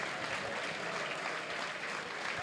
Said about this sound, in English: Rob Sinclair, quite rightly, you know, gets a big round of applause from the home fans